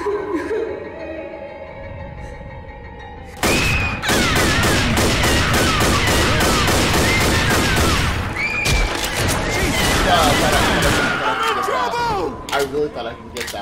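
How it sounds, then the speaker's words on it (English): Heavy mounted machine gun in Left 4 Dead hammering out a long, rapid burst of loud, closely spaced shots that starts abruptly, pauses briefly, then resumes before tapering into scattered shots, with game sounds and voices mixed underneath. "Now this is a big-ass machine gun."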